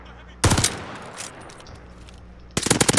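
Automatic gunfire in a first-person shooter video game: a short rapid burst, a lull with faint game noise, then another fast burst of rattling shots at the end.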